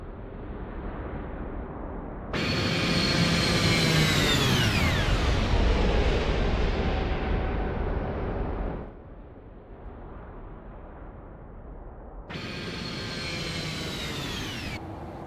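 A PMDG 737-800 in American Airlines bare metal livery roars past twice in Microsoft Flight Simulator 2024. Each jet engine pass swells in loudly, then drops in pitch as it recedes, with a quieter gap between them.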